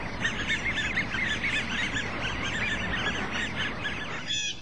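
Many waterfowl honk and call together on a crowded lake, a dense continuous chorus of overlapping cries at moderate distance.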